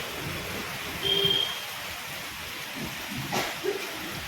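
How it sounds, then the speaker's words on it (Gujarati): Monsoon rain falls steadily in Surat, a close, even hiss of drops on surfaces with a few brief louder patters and a faint high tone, no voices over it. "સુરતમાં વરસાદ ચાલુ થઈ ગયો ચોમાસું"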